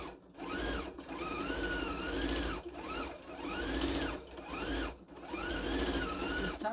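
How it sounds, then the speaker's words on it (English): A sewing machine runs in three long, even bursts with short pauses between them while top stitching a small Christmas skirt at a stitch length of 3; the motor whirs steadily and fairly quietly, with no talking. "And I'm just going to sew."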